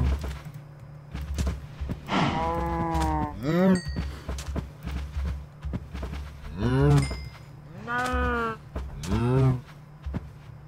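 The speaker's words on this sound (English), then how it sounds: "So we have a lot more cows now." Cows mooing in Minecraft on a survival island, several drawn-out moos in a row, fairly close and loud, with soft footstep-like thuds and brief talk between them.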